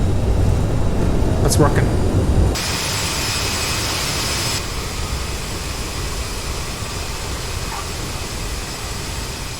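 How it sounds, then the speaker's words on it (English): A CRJ airliner's jet engines roar in reverse thrust during the landing rollout in Microsoft Flight Simulator. The sound is a loud, steady broadband rush that shifts in tone partway through, with a brief spoken voice over it. "Reverse thrust."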